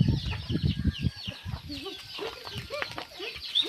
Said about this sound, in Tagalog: ang dami pala nilang manok